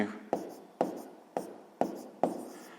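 A pen writes numbers during a sixth-grade math exercise, five short scratching strokes at a steady pace, close and quiet.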